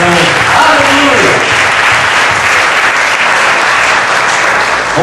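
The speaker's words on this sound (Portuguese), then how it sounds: "Aplauda mais uma vez o Senhor, porque Ele ouve a nossa oração." A church congregation applauds loudly and steadily throughout, a dense close wash of clapping after a prayer, with voices faintly mixed in.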